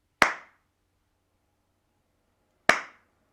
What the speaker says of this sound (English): we don't say anything and we just clap that rhythm